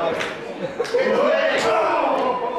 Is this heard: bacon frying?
no